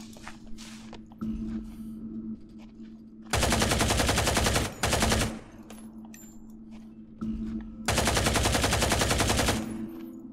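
Bursts of rapid automatic gunfire in the tactical shooter Ground Branch, two long sustained volleys with shorter shots between, loud and close over a low background hum.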